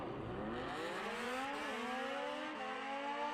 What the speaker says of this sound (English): Very interesting exhaust note.